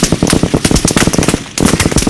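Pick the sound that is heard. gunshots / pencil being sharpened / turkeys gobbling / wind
gunshots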